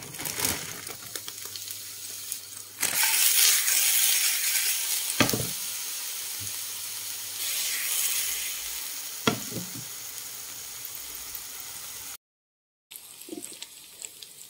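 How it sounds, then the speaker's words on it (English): Sliced zucchini fries in a tablespoon of olive oil in a pan over medium heat with a steady, close sizzle. Occasional taps and stirs break the sizzle, and there is a brief cut near the end. No one speaks. "Heat 1 tablespoon of olive oil in a pan and fry the zucchini for 2 to 4 minutes on medium"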